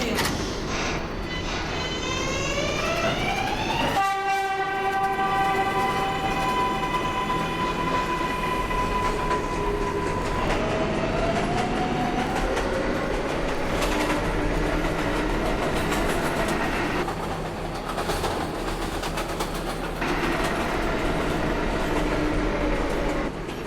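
R142A New York subway 6 train running underground, a loud steady rumble with a rising and falling electric motor whine and rail rattle throughout.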